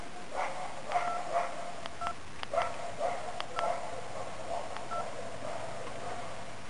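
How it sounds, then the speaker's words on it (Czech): A mobile phone powers on with a string of short, bright electronic keypad beeps at uneven intervals, fairly quiet and close, over a soft outdoor background near a forest path. "Zapínáme mobil."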